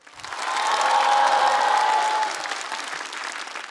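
Audience applause fills a stand-up comedy show, swelling quickly to a loud, dense clapping that holds for a couple of seconds before easing into a softer, thinning patter.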